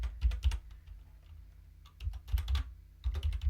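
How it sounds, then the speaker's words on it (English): Fingers type a command on a computer keyboard in a Linux terminal, producing crisp, close keystrokes in two quick bursts separated by a short pause. "so you would type sudo pacman -s"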